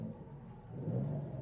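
An Alfa Romeo Stelvio Quadrifoglio with an Akrapovic exhaust idles after start-up, a low, quiet, steady engine rumble heard from inside the cabin.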